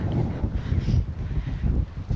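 Strong outdoor wind buffets the microphone in loud, low, gusty rumbles that swell and fade over about two seconds, with no talking.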